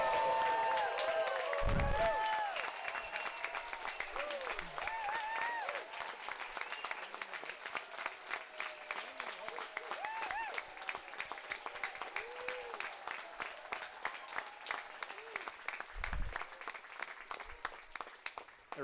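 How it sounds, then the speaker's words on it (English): Medical school students, the class of 2029, stand at their white coat ceremony while a large audience gives sustained, roaring applause. Cheers and scattered voices mix in, and the clapping continues loudly for nearly twenty seconds. "I want a big, loud roar of applause."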